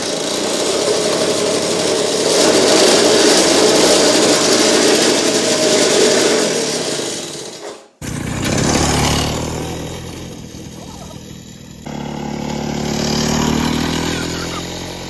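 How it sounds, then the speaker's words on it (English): A Victa two-stroke engine on a restored go kart idles with a steady buzzing drone, cuts out abruptly partway through, then restarts and runs again with an uneven, rougher tone up close. "The motor's just idling."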